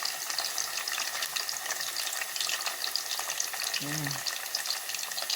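Yam slices frying in a pan for a home-cooked lunch, giving a steady, close hiss of oil sizzling throughout with a brief low clunk near the end.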